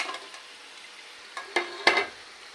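Pitha dumplings sizzle softly in a hot pan while being stirred and turned, with a few sharp scrapes and clinks of the utensil against the pan.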